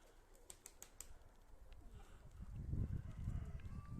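A pigeon coos low and soft outdoors, the murmuring growing fuller in the second half, with a few faint clicks and light background noise earlier.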